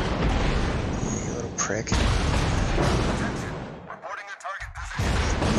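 Heavy naval guns of the battleship North Carolina boom in a naval combat game, loud deep blasts and rumbling explosions filling the clip, with a voice speaking over the gunfire.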